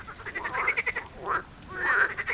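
Toad croaks sound out in a fairy tale reading: a series of rapid, raspy croaking pulses, then two longer rolling croaks, fairly close and clear with no voice over them.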